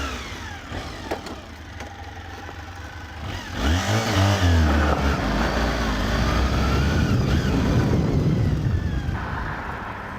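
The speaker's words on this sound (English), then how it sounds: "you need to give it a really big handful of revs to move off from the start" A Honda VFR400R V4 sports motorcycle revs hard and moves off, its engine note climbing loudly and steadily from a strong rev into sustained acceleration, close by.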